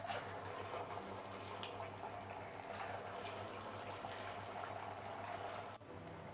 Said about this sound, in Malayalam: എണ്ണ തിളച്ചിട്ടുണ്ട്. ഇനി നമുക്ക് ഓരോ വട ഇതിലേക്ക് ഇട്ടുണ്ട്